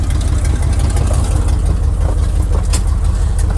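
An old Chevrolet C10 truck engine with a big exhaust leak gives a rough, steady rumble with a loud low-end drone and rattly exhaust sputter, running continuously and close by.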